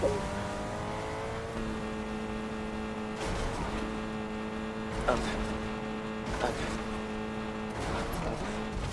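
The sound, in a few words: car driving in the video game Fortnite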